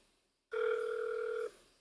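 A steady electronic telephone tone sounds for about a second after a call is hung up, preceded by a brief hush and fading into quiet line noise, with no talk.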